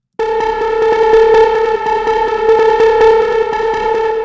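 A loud, steady synth tone processed through the Baby Audio Spaced Out plugin at its default setting rings with a faint rhythmic pulse underneath, slightly washed and effected, with no voices.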